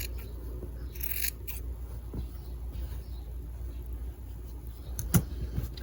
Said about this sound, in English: I'm going to cut the piece of fabric out